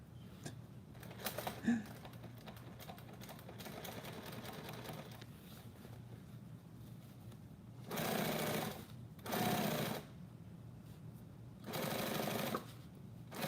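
A sewing machine running in a workshop, with quiet clicks and handling noises at first, then three loud bursts of fast, even stitching separated by short pauses.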